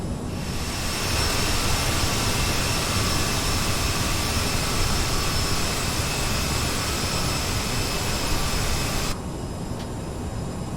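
Steady, loud whine and roar from the jet engines of an Aerosoft CRJ in Microsoft Flight Simulator, holding constant and then dropping off sharply near the end, with no talking.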